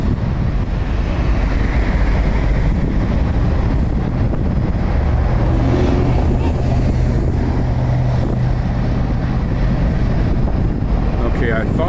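A freight train carrying an ADM rail car rolls past a bridge in a continuous loud low rumble of wheels and cars, with heavy wind buffeting the microphone throughout.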